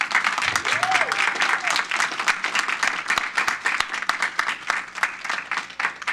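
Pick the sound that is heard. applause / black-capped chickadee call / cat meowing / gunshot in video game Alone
applause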